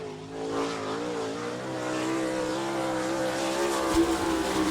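A sprint car on a qualifying lap at Attica, Ohio, its engine holding a loud, steady drone with slight pitch swells as it circles the track, continuous and fairly close throughout.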